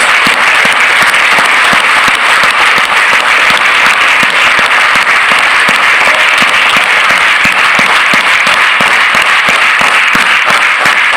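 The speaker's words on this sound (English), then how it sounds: "All of us are clapping for each other's success" A large audience at an Amway India leadership summit claps loudly and continuously, with sharp individual claps standing out in a regular rhythm over the dense roar.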